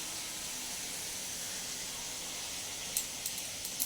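Curd poured into hot oil over fried katla fish pieces gives a steady, bright hissing sizzle that holds evenly throughout, with a few small pops and crackles near the end.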